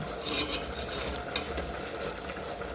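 A spatula scrapes across the bottom of a cooking pot of tomatoes and rice, giving continuous rough scraping and stirring with a few sharper scratches, moderately close.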